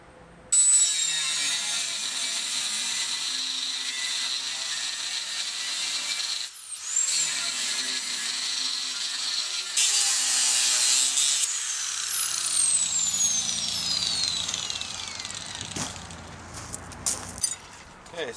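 A power saw cuts a strip from steel flat stock with a loud, sustained metallic whine. The pitch shifts as the blade works, with a brief dip in the middle and a rougher, grinding stretch toward the end.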